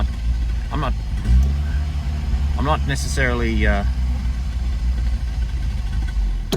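An old car engine, left sitting for 20 years, runs rough and low, revs rising and sagging unevenly as it struggles to hold idle and cuts out now and then, with someone talking briefly over it.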